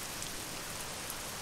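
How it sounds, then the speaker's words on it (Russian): Rain in Euro Truck Simulator 2, heard while a Kenworth W900 truck mod is shown, makes a quiet, steady hiss with faint scattered drop ticks and no voices. "Нет, дождь не кончился."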